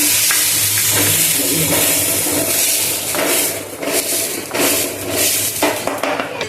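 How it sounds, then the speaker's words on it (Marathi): Cut tomato and coriander fry in a pan in a home kitchen, a loud continuous close sizzle with scraping stirs and occasional clinks of a utensil against the pan. "एक टमॅटो कट करून घेतलेला आहे, तो पण फ्राय करून घ्यायचा."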